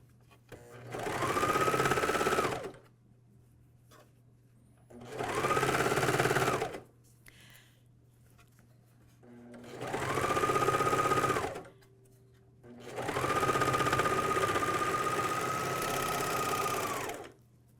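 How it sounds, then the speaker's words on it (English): A MyLock 454D serger stitches a pajama top seam in four separate runs, each a loud, steady mechanical whir that spins up, holds for a couple of seconds and stops, with quiet pauses between. "And then you sew."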